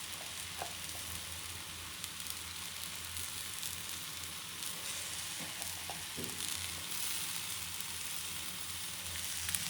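A dosa topped with crumbled paneer sizzles steadily on a hot pan, an even, close frying hiss with a few faint scrapes and taps, no voices.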